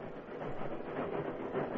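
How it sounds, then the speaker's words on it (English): A train rumbles slowly along the track toward a hill summit with a continuous, moderately loud rolling noise and faint clatter, heard without any voices. "The train moved slowly to the summit of Break Hill."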